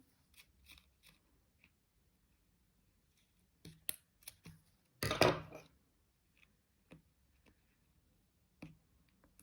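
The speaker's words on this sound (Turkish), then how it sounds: "Şimdi şuradan kesiyorum." Scissors cut fabric while making a small anglez-lace pouch, giving quiet, sparse snips and clicks with one louder, crunchy cut midway, close up in a quiet room.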